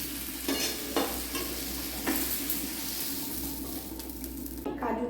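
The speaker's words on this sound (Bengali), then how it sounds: "কাজুটা ভেজে নিচ্ছি।" Cashews fry in a wok with a loud, close sizzle, broken by a few sharp scraping strokes as they are stirred.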